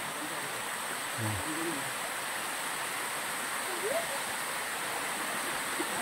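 Tarias Falls, running with a lighter flow of water, sends out a steady, even rush of falling water, with faint voices briefly rising above it.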